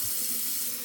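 A tap runs steadily into a basin during a shave as more water is added, a short, close, continuous hiss of flowing water.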